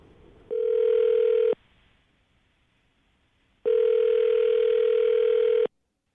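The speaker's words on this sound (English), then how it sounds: "I'm going to dial her phone number right now" A telephone line sounds its steady ringback tone twice, each a loud sustained beep lasting a second or two, separated by a quiet gap.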